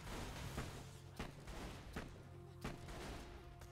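Game gunfire from a Borderlands 2 weapon, loud sharp shots in an irregular rapid sequence over steady background game noise, with no talk.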